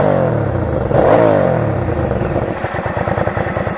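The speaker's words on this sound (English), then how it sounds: "If I rev it up, it'll probably sound like crap" A fuel-injected Hyosung GV650 motorcycle engine revs up close and loud, its pitch rising and falling with the throttle, then settles into a rapid, throbbing idle.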